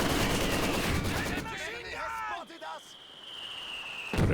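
Mortar barrage and gunfire in Company of Heroes 2, a dense burst of shots at the start fading into distant rumbling and whistling tones, with a voice talking over it.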